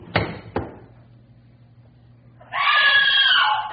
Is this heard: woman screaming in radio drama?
yes